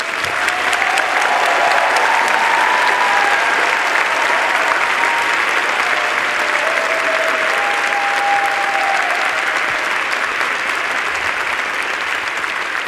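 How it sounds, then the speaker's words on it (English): A large audience at a university graduation ceremony for natural sciences graduates applauds steadily and fairly loudly for the full stretch. The dense clapping holds at an even level without pause. "Please join me in a round of applause to the graduates."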